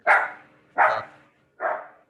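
A dog barks three times in separate, loud, close bursts with short gaps between them, with no talking over it.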